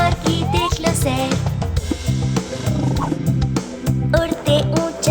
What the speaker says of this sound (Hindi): डायनासोर की सुनो दहाड़।